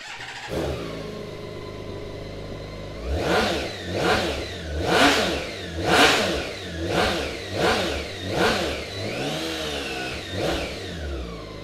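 A 2018 BMW K1600GT SE motorcycle engine with standard exhaust cranks and catches, then revs repeatedly in several sharp rising-and-falling bursts before settling into a steady idle, loud and close.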